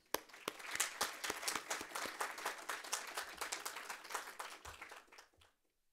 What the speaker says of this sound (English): give a warm applause to our young authors